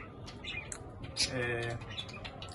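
Budgerigars chirp and chatter busily in a steady, overlapping twitter, fairly close, with a low background hum.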